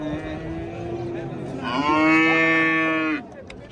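A young ox at a livestock market lets out a long, drawn-out moo that swells and then cuts off, heard close by over faint background noise.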